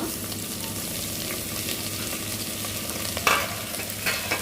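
Amaranth leaves hit oil where chana dal has browned, producing a steady close sizzle with a brief louder burst of crackling as more goes into the pan.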